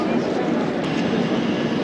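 The Avadh Assam Express stands at Dimapur railway station, giving a steady, loud broadband rumble close by that holds level from start to finish.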